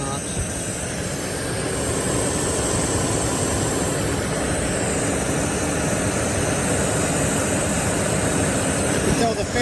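A constant loud whooshing roar of Range Rover radiator cooling fans running hard on an overheating engine, steady and broadband with a low engine hum beneath.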